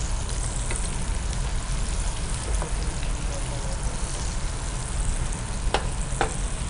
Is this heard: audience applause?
no